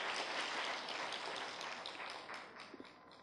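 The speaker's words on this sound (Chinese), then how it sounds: "我们先给萧老师一个热烈的掌声哦" Warm applause from an audience welcoming an art historian at a talk on Taiwanese art history, a dense, even patter of many hands that gradually thins toward the end.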